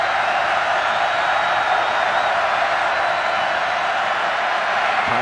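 Home crowd at a 2016 Miami Hurricanes versus Georgia Tech college football game, a steady loud roar of many voices filling the stadium throughout, with a faint high whistle-like tone drifting over it.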